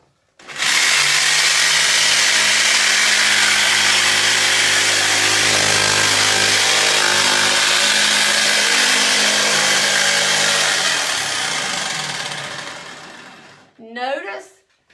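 Jigsaw blade sawing steadily through a wooden board, a loud continuous buzzing whine for about thirteen seconds before cutting off, followed by a short burst of speech.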